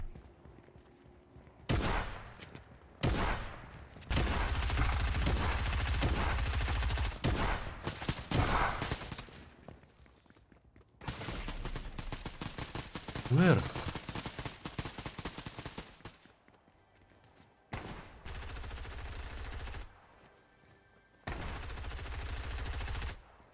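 Gunfire in Fortnite Zero Build Battle Royale: several bursts of rapid shots and sustained volleys separated by short pauses, loud and close, with no talk.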